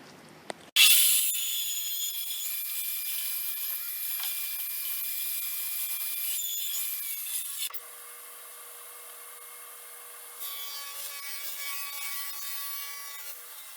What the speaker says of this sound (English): So I'm going to cut a 1/2 inch piece of the MDF at 15 inches